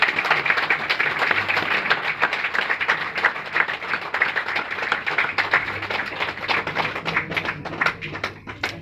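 Audience clapping fills a seminar hall with dense, steady applause, loud and continuous with sharp individual claps throughout, tapering slightly near the end.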